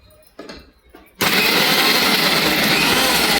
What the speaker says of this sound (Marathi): आता याला आपण 2 मिक्सर लावूया